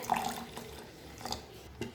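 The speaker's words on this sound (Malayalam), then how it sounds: "ഇതിലേക്ക് ഒരു 1/2 കപ്പ് വെള്ളം കൂടി ചേർത്ത് കൊടുക്കുവാണേ." Half a cup of water is poured into whisked curd to make a buttermilk curry, a faint, short splashing trickle that fades and returns in a couple of quiet bursts.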